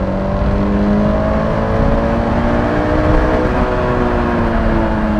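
A Honda S2000 engine, 240 hp with a 9000 rpm limit, revs loud and close in one sustained rising howl as VTEC engages, with no voices over it.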